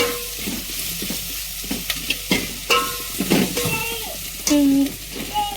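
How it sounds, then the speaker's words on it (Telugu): Ginger garlic paste fries in a pan, giving a constant close sizzle while a spoon scrapes and clatters against the metal in irregular strokes. "పచ్చివాసన పోయే వరకు అయితే మంచిగా వేయించుకుందాం."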